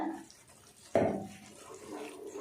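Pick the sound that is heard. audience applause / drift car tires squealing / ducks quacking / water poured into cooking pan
water poured into cooking pan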